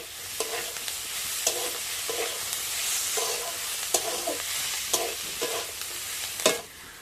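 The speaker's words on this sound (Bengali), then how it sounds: "পুরটাকে আমি বেশ কিছুক্ষণ সময় ধরে নাড়াচাড়া করে ভালো মতো করে একটু ভেজে" A potato and cauliflower filling is stirred and fried in a pan, with a steady sizzle under repeated scraping strokes of the spoon, about one every second, ending in a sharper clack.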